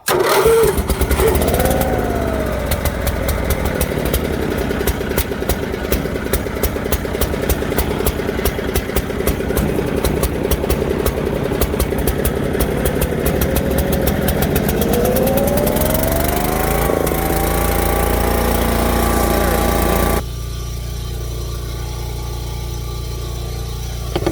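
A Caterpillar 247B skid steer engine cranks and catches near the start, then runs steadily and loudly with a throbbing idle, rising briefly in pitch before the sound drops away abruptly toward the end.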